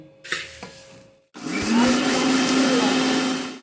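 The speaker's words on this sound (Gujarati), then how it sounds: "હવે આપણે મિક્સર જારમાં એને પીસી લઈએ" After a few light clatters, a mixer grinder jar starts up and roars loudly and steadily as it grinds roasted coriander and cumin seeds, with no voices.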